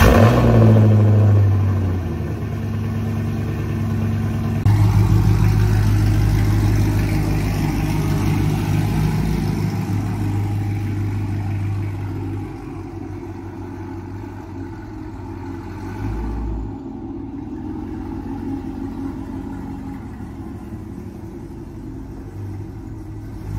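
A 2015 Chevrolet Camaro engine runs at a steady low idle, a loud close rumble that swells briefly as the car is moved and turned around inside a garage, with no talk over it.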